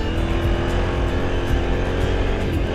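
A car engine revs hard at high RPM while the vehicle drives through soft desert sand in Morocco, a steady, loud, continuous drone with no pauses.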